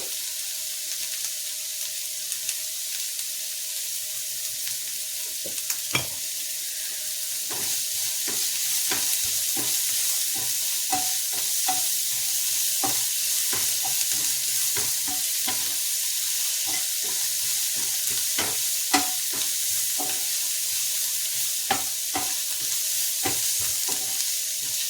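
Bitter gourd, onion and green chilli sautéing in a pan, a steady hiss of frying with frequent scraping and stirring clicks from a spatula throughout, close and continuous with no talk.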